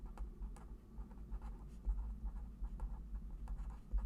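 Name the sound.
writing out a calculus formula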